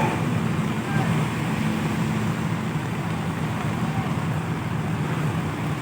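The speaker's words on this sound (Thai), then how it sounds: "ฝนนี่แบบโอ้โหกระหน่ำเลยครับตอนนี้" Heavy rain pours down in a dense, unbroken roaring hiss that stays loud and even throughout.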